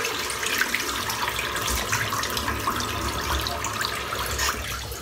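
Running tap water pours steadily to wet the head before a head shave, a continuous close hiss of flowing water with no talk.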